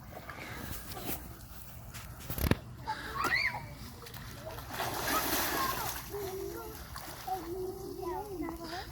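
Children splash and play in a cool backyard pool, with broken bursts of water sloshing and slapping near the microphone, mixed with kids' voices and chatter throughout.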